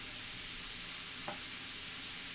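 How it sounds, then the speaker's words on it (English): Sausage sizzles steadily in a frying pan as it is chopped into crumbles, with a bright continuous hiss and one brief scrape of a utensil against the pan partway through. "So that's why I'm doing a lot of the chopping up here."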